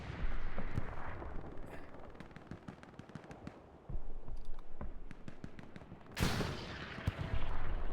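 Gunfire and artillery booms in a video game tank fight, with a 76 and a P4 tank, rattle through the whole stretch as repeated sharp cracks and bursts, rising to a loud blast near the end.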